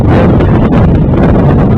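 Loud wind gusts buffet the microphone, making a dense, rumbling roar that stays strong throughout, with no speech.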